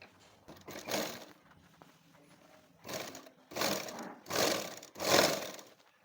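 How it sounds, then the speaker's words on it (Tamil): Sewing machine stitching a seam a quarter inch from the fabric edge, heard as short whirring runs: a quiet stretch, then four loud bursts close together, each rising and falling. "1/4 இன்ச்சு வச்சு இப்படியே தையல் போட்டுக்கிட்டு வந்துடலாம்"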